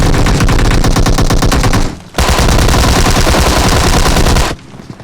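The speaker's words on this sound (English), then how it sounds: "Simple switching down to that Tommy gun, able to pick up that final kill" Tommy gun firing in a video game, rapid loud automatic bursts up close, one long burst, a brief gap, then another sustained volley.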